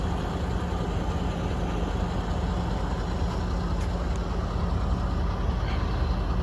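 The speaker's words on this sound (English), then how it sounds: "I guess that's the motor." A truck engine runs steadily while pulling a trailer, a constant low rumble with an even, unbroken drone throughout and no voices.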